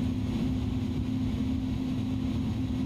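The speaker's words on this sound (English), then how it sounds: "just about to taxi onto our runway here" Steady low engine drone of an Airbus A310-300 airliner taxiing toward the runway in a flight simulator game, a constant hum with a strong tonal band, continuous and unchanging with no voices.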